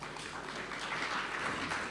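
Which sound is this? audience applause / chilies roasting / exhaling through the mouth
audience applause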